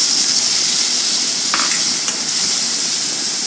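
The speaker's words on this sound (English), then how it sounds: "After that, add diced tomatoes." Diced tomatoes hit a hot pan for soya nugget curry, giving a steady loud sizzle and hiss with a brief stir or clatter near the middle.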